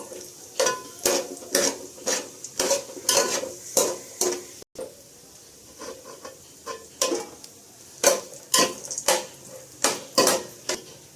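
Semiya vermicelli being fried in a pan for an Eid sweet, a rhythmic series of scraping stirs against the pan over a faint sizzle, each stroke distinct and close, with no speech.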